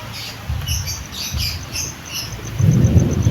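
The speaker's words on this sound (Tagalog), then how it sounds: "Yan na ang ulan." Low rumbles of thunder roll in bursts as a storm approaches over a vegetable garden, while rain builds to a heavier patter near the end, with insects chirping faintly in the background.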